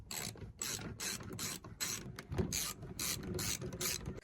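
Ratchet wrench clicking in quick repeated bursts while undoing T25 screws inside the boot of a Vauxhall Zafira B, about eight close, crisp pawl runs with short pauses between, no talking.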